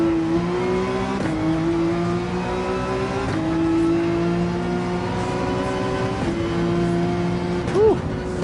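Race car engines in Gran Turismo 7 at Daytona, one droning loudly near and rising through the gears in repeated upshifts, with other cars and a Corvette running close behind.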